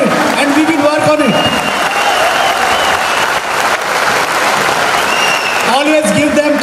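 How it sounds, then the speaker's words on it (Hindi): An audience at a motivational speech event claps in steady, dense applause throughout, with a speaker's voice heard at the start and again near the end. "एक बार तालियां बजा के बताइए कि हम इसका पालन करेंगे।"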